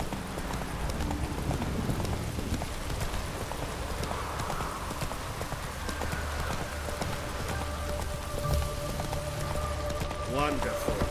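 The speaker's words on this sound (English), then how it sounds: "Run, Roach" A horse gallops in the video game Witcher 3, with dense, fast hoofbeats pounding steadily and close throughout over a busy game background.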